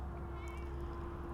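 A relaxed farm cat gives a single short, faint meow over a steady low hum of background noise.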